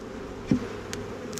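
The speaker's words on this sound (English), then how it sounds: "So we do have quite a few bees on the edges of the frames there." Honeybees crawl on the edges of Flow Hive frames during an inspection, giving a faint, low, continuous buzz with one brief soft knock partway through.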